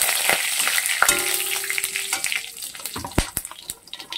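Whole cardamom, cloves and cinnamon sizzle in hot oil as garam masala fries, with a steady close crackle broken by a few stirring clatters.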